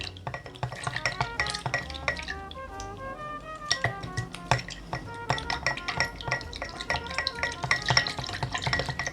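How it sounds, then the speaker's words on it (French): A spoon stirs honey into bourbon in a glass, giving a quick run of close, bright clinks and taps against the glass, irregular and fairly loud, with no voices. "On va venir mélanger dans notre bourbon afin de l'infuser de ce miel."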